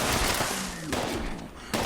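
Automatic weapon fire in the Fallout 76 video game, a dense rapid stream of shots that sounds suppressed and runs almost unbroken across the clip, with a short pause near the end.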